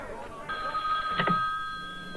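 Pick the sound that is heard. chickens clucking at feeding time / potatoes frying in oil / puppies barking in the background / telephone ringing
telephone ringing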